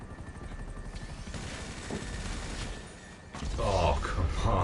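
Helicopter in GTA 5 Online flying, a steady rotor drone and engine whine running throughout under game effects, with a louder, brighter surge near the end.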